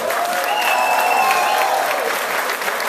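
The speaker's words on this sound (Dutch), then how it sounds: "vraag om een groot applaus voor onze jongens van het geluid, Robin en Dan." A live crowd at a cover-band contest applauds the sound crew, dense sustained clapping close by, with a faint whistle rising over it.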